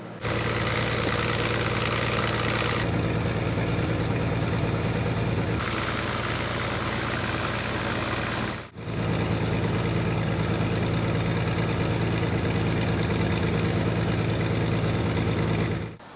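A dredging machine's engine drives suction that pulls silt and algae from the canals of a park in Lutsk, pumping it ashore through a pulp pipeline. It gives a loud, steady, close drone that continues unbroken apart from one brief dip.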